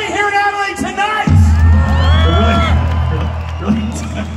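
A concert crowd at an Adelaide Entertainment Centre show sings along loudly in unison, voices swelling and sliding together over pounding live band bass, with shouts and whoops rising from the arena.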